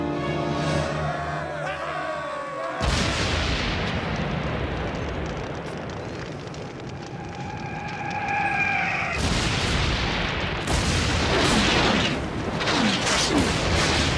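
Grenade explosions in a Batman animated series episode boom and rumble in bursts over a noisy action soundtrack, heavy blasts arriving loud and close between stretches of chaotic effects.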